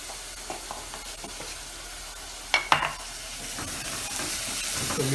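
Chilli powder and turmeric are stirred into a sizzling frying pan for egg curry, a close, steady hiss and fry with a few sharp scrapes and knocks of the spoon partway through, and no talking.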